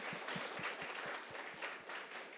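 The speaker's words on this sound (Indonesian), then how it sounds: "Oke, kita tepuk tangan." Applause from a church congregation at an anniversary service, a steady wash of many hands with a few louder individual claps in a regular beat, fairly faint and continuous throughout.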